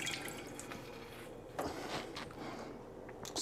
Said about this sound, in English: So rinse my hands off real quick.